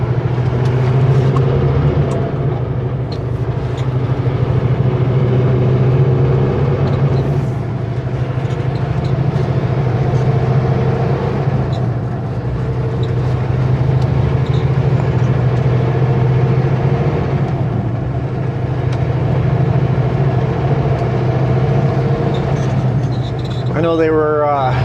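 A vehicle drives slowly along a primitive, washed-out section of Highway 3 in Manning Park, with a steady, close engine drone and low rumble throughout while someone talks over it.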